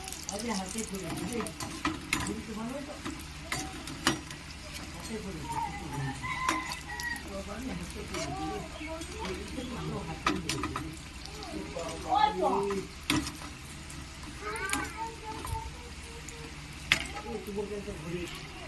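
Singara (samosas) fry in hot oil with occasional stirring, a low soft sizzle heard faintly beneath a voice and background chatter, with clucking chickens nearby.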